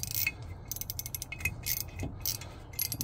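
A ratchet wrench with a Torx T30 bit loosens the small brake rotor retaining bolt on a GM Acadia-type vehicle, producing rapid, close clicking pawl runs in several bursts with brief pauses and no talking.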